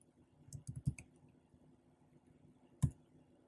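Someone types on a computer keyboard, a few soft clicking keystrokes in a brief cluster followed by one sharper key press after a quiet gap.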